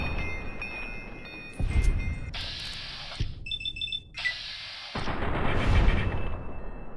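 Gunfire aimed at a tree in the Fallout: Tale of Two Wastelands game lands as a few heavy, booming shots, mixed with beeping electronic alert tones and game noise.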